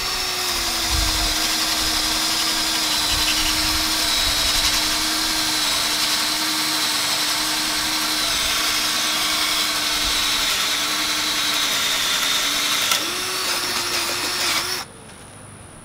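A power drill bores a one-inch hole through wood for a tilting solar panel mount, its motor whining in a loud, steady drone for about fifteen seconds before it abruptly stops.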